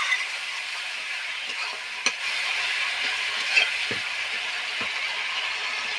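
Spice paste of tomato, turmeric, salt and a little sugar sautéed with a splash of water in a pan, giving a steady close hiss and sizzle with a few faint stirring knocks.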